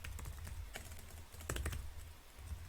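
Fingers type on a computer keyboard in a quick, uneven run of soft clicks and key taps, fairly quiet and close, with nobody speaking.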